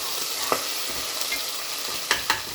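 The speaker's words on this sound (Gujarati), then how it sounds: "આદુ, મરચાં, લસણ અને તેજપત્તો, આ બધું હવે આપણે એડ કરી દઈએ. બરાબર મિક્સ કરી દઈએ." Ginger, green chili, garlic and bay leaf fry in hot oil for a Kathiyawadi khichdi, a steady close sizzle broken by a few sharp scraping stirs of the spoon against the pan.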